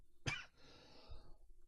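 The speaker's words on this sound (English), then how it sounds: "I don't know why I just started coughing after talking so much" A single sharp, close cough bursts out suddenly, followed by a softer throat-clearing rumble, from a podcaster in a quiet room during a board game preview discussion.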